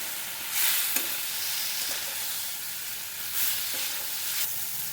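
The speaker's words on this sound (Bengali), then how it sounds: "ডিমগুলো দিয়ে একটু ভালো করে কষিয়ে নেব" Eggs with Kashmiri chili and spices sizzle quietly in a pan while a utensil scrapes and stirs them in a few distinct strokes, low and close with no talking.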